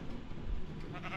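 A sheep bleats in a video game, a short wavering bleat set against a busy, noisy game soundscape, moderately loud and brief with no talking over it.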